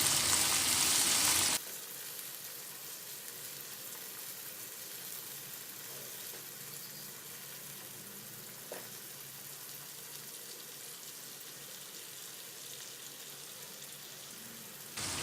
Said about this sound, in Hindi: इसे अच्छे से भूनना है, टमाटर को बिल्कुल सॉफ्ट करना है हमें।